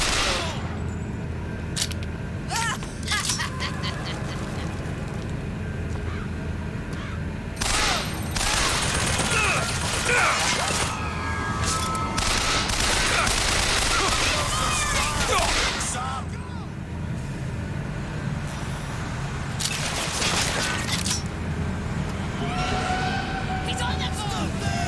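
Gunfire in a video game battle rattles in uneven volleys and scattered shots, dense in places and sparser in others, under loud shouted voices and other game noise.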